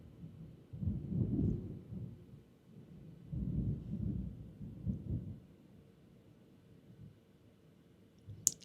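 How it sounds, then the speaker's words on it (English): Thunder during a storm, deep rumbling booms rolling in two long swells, muffled and low, then fading to quiet before a sharp click at the end. "I don't know if you can hear that, but that was a loud thunder bang."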